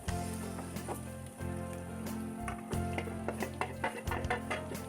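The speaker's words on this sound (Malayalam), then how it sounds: "പച്ചമുളകും ഇഞ്ചിയും ഇട്ട് ഒന്ന് മൂപ്പിച്ചതിന് ശേഷം നീളത്തിലരിഞ്ഞ സവാളയും കൂടെ ചേർക്കുക." Sliced onions sautéing in hot oil with green chilli and ginger, a steady close sizzle with scattered crackles and light stirring clatter throughout; background music hums underneath.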